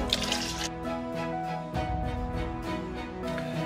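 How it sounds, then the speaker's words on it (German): Water is poured to top up a cooking pot of asparagus, a dense liquid gush with tonal sloshing that changes pitch as the pot fills, close and continuous. "füllt das Ganze dann mit noch ein bisschen Wasser auf"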